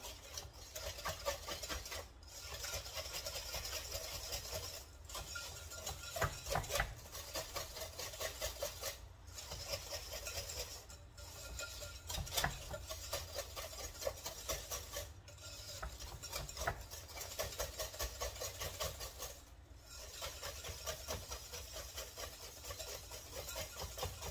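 Zucchini banana bread batter with eggs being mixed, a continuous close rattling, whirring churn that briefly cuts out every few seconds, with no voices.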